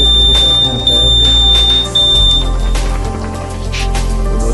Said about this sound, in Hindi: अब मैं आपको बताऊंगा कि ये बजर मैंने कहाँ पे लगाया है